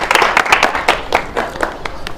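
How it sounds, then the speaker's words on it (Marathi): An audience claps loudly for a correct quiz answer in a study-hall setting, a dense burst of overlapping claps that stays strong throughout. "दादासाठी एकदा जोरदार टाळ्या होऊ द्या"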